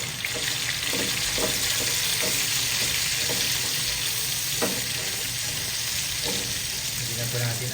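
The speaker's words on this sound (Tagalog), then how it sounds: "At dito na rin po ay magigis na po tayo ng bawang sibuyas at luya" Garlic, onion and ginger sautéing in hot oil, a steady close sizzle and crackle running throughout with occasional stirring scrapes and knocks of a utensil.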